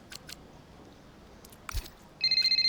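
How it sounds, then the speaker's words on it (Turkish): A phone rings during the Formula 1 racing game Braking Point 3: a bright, pulsing electronic ringtone starts near the end and repeats rapidly and clearly after a few faint blips. "evet bir telefon görüşmesi daha Kaspar'la birlikte. Evet Davidov arıyor"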